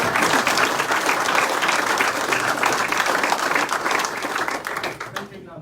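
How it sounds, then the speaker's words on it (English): A roomful of people at a township swearing-in ceremony and board meeting applauds loudly and continuously, a dense wash of clapping that tapers off at the very end. "Now let's have a round of applause for everyone else left in the room."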